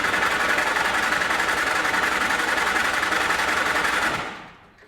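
Starter cranking on an old Flatfender Jeep in neutral after a new air cleaner was fitted to its carburetor: a loud, fast, buzzing mechanical chatter held steady for about four seconds, then abruptly dying away.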